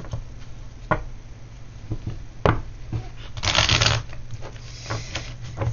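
Tarot cards are shuffled by hand with soft riffles and taps, then a denser flurry of shuffling near the middle, all close and moderately loud.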